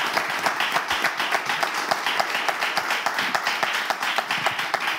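Audience applause in a television studio setting, with distinct rhythmic clapping in fairly regular beats over a steady wash of hands, moderately loud and continuous, no talking over it.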